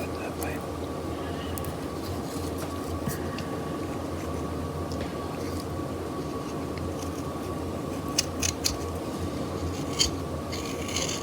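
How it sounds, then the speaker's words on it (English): A knife carves a wooden skull with paring cuts pulled toward the thumb, giving soft, continuous scraping and shaving close up, with someone talking throughout and a few sharper nicks near the end. "it's called a paring cut when you pull the knife towards your thumb"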